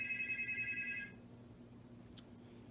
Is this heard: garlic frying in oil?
no